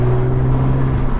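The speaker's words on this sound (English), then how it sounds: "this one's not too noisy with the aftermarket exhaust" A car with an aftermarket exhaust idling steadily close by, a smooth, even low droning rumble with a constant tone and no revving.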